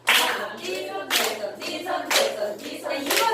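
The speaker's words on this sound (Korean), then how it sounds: "박수 1번 이렇게 칩니다." Hand claps in a senior exercise class, several crisp, separate claps spaced about half a second apart, close and clear against a quiet room.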